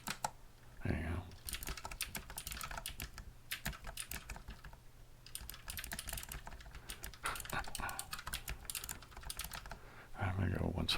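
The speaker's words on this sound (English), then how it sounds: "I'm going to go once more around the whole keyboard" Quick clatter of keys on a computer keyboard, tapped in bursts of rapid strokes with brief pauses, close and steady throughout.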